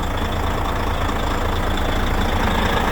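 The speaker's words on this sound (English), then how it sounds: "Have your truck running right now." A heavy truck engine idles steadily nearby, a constant low rumble with broad noise and no talking.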